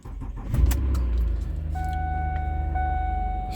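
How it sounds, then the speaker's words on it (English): A 2008 Lincoln MKZ sedan cranks briefly and its engine catches, then settles into a steady close idle with a faint high tonal whine above it. "This is a great car, and going to give it a start."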